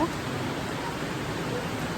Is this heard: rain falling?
yes